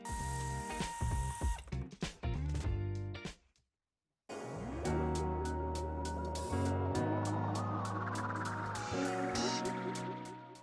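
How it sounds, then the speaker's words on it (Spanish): A screw is backed out on a 2022 Fiat Doblò XL during a towbar fitting, as a power tool gives a whirring motor whine in two bursts separated by a brief silence. "Retiraremos este tornillo."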